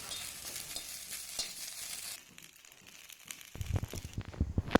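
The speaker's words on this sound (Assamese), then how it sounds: "এতিয়া শেৱালি ফুল কেইপাহ ইয়াতে দি অলপ সময় মই লৰাই লৈছোঁ" Shewali (night jasmine) flowers stirred in a hot wok for a khar dish give a steady close-up sizzle and scrape, quieting midway before louder, choppy stirring strokes return near the end.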